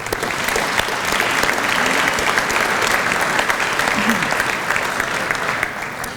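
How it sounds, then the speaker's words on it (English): Sustained applause from a luncheon crowd at a regional chamber of commerce event, steady and dense for about six seconds, with faint murmuring voices mixed in before it tapers slightly at the end. "Let's recognize these members with a round of applause as well."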